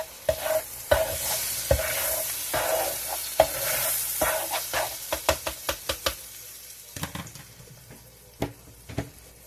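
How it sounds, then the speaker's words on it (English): An egg sizzles steadily in a hot pan while a utensil clinks and scrapes against it in irregular taps. "Alright, I'm going to start frying my egg."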